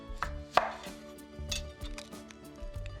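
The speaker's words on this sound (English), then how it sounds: "And then I cut it in half right through the root like this." A knife chops through an onion on a cutting board, cutting it in half through the root, with a few sharp knocks against the board and a crisp crunch near the start, close and fairly quiet.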